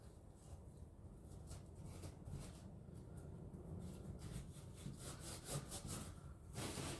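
A pick scrapes and rubs at sticky old finish residue along the edges of a wooden armoire, a quiet, continuous gritty scratching with short sharper strokes near the end.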